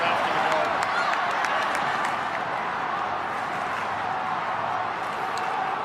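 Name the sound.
football stadium crowd cheering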